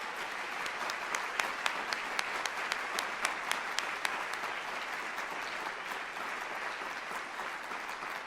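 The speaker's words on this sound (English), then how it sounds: "please give one more round of applause to our golden graduates" A steady round of applause from an audience at a college graduation convocation, with a few sharper individual claps standing out near the start, fading slightly toward the end.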